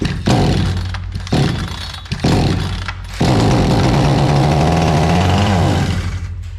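A Hyundai H859 chainsaw engine fires and cuts out in short bursts, then runs loud and close for several seconds before winding down and stalling.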